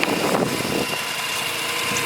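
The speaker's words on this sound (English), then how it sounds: "alright, so we'll just listen to the engine for a second here." A 2011 Mazda RX-8 Sport with a rotary engine idles steadily nearby, a continuous even hum with no talking.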